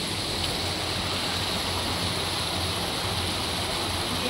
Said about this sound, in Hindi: ये मेन स्पॉट है जहाँ से आता है पानी।